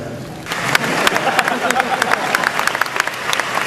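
Audience at a Comic-Con panel for Blade Runner with Ridley Scott bursting into sustained applause, dense and loud clapping that swells after a quiet start and continues throughout.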